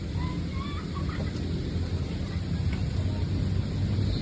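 Steady rain hisses down during the rainy season at Napindan, Taguig, with a low rumble underneath, continuous and fairly close, without talk.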